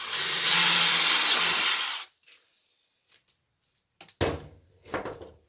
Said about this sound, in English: Make sure our drill's straight. Drill 4 holes.